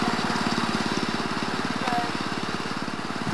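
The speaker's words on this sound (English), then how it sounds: "He's always riding around with that tractor, doing nothing." A tractor engine runs steadily as it drives around, with a loud, close, fast chugging pulse that holds an even rhythm throughout.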